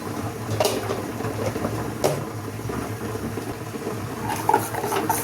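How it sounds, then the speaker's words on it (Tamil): Rasam of ground spices, salt, chilli powder and turmeric simmers in a pot, a soft bubbling hiss with occasional clinks of a ladle or utensil, close and quiet, with no talking. "ரசம் கொதிக்குது ஃப்ரெண்ட்ஸ்"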